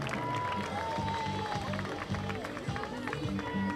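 A high school football crowd at a Brentwood Christian vs Brook Hill game cheers and claps for a senior, a steady roar of voices and applause from the stands with a public address announcer sounding over it.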